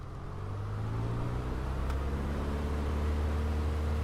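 A PA-38 Tomahawk engine drones at takeoff power in Microsoft Flight Simulator, a steady low hum that swells slightly in the first half-second and then holds constant with a faint rising whine.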